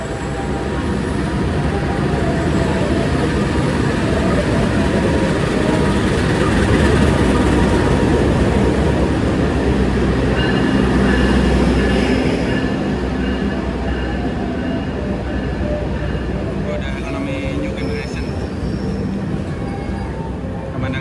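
A Kamandaka passenger train from Poncol, Semarang, rumbles steadily past at close range, a loud continuous roar of wheels on rails with faint metallic squeals.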